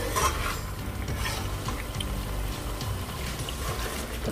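Masala frying in oil with the oil separating at the edges, the mix stirred in a pan for moong dal fry, making a steady sizzle under repeated scraping and stirring strokes, close and without talk.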